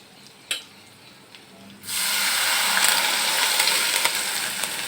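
Gram-flour kadhi batter is poured into a hot tempering, bringing a sudden loud, close surge of sizzling after a quiet start with a single clink, then a steady frying hiss to the end.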